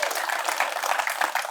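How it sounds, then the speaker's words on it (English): Applause from the audience at a ribbon cutting ceremony for an Orlando company headquarters, a steady wash of many hands clapping across the whole moment, fairly close and even in loudness. "That's an applause."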